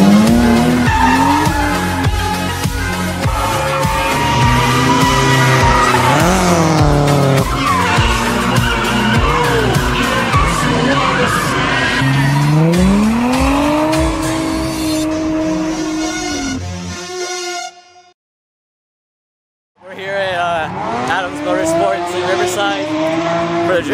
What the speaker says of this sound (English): So let's get some drifting on tonight.